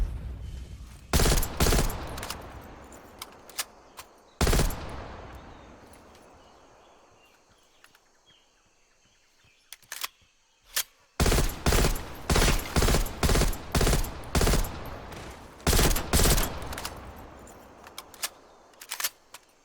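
The DM Ultra rifle fires in a video game, loud sharp shots in clusters with ringing echo tails, a long decaying pause, then a rapid steady string of evenly spaced shots.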